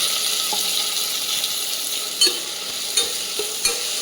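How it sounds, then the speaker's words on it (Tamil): Rice and lentils dry-roasting in a pan with browned onions for ven pongal, giving a steady close sizzle with a few sharp scraping clicks as the mix is stirred, no voices. "அரிசியும் பருப்பையும் போட்டு லேசாக வறுக்கணும்"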